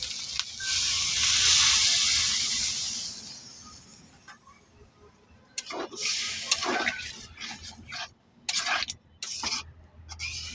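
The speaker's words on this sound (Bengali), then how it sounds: "এখন পরিমাণ মতো একটু জল দিয়ে দেবো।" Water poured into a hot cooking pan gives a loud, bursting hiss that slowly dies away, followed later by quieter sizzling and a few sharp clinks and knocks of a utensil nearby.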